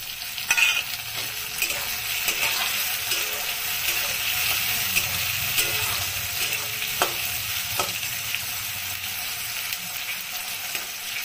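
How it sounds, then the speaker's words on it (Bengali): Tomato fries in a pan with spice masala, giving a continuous bright sizzle while a spoon stirs with occasional scrapes and taps. A voice murmurs faintly underneath. "টমেটোটা দিয়ে একটু নাড়াচাড়া করবো"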